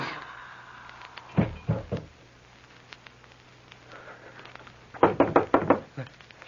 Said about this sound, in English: It's the door. Someone there.